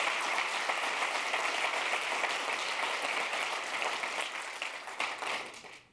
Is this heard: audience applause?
yes